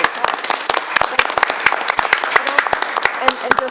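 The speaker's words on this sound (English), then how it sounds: "is a round of applause" A small group claps at a board of education meeting, a steady patter of distinct close hand claps lasting several seconds with faint murmuring beneath.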